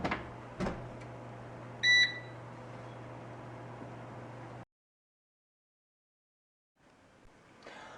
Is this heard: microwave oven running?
yes